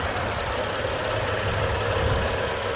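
A 2013 BMW X1 xDrive35i M Sport engine idles steadily up close after a cold start, a continuous low rumble with a faint mechanical ticking, no voices.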